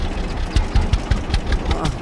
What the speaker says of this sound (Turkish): Traktörün ne biçim sesi var ya?